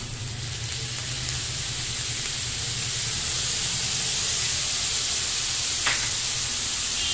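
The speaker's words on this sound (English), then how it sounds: "Now I'm going to add my soy sauce." Soy sauce hits hot mixed fried rice in a pan, giving a steady loud sizzle and hiss that continues for several seconds without any voices.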